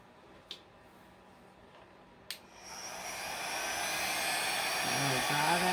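A hair dryer set on low blows over a thick craft layer, switching on after two small clicks and settling into a steady, close whooshing hum that builds and holds.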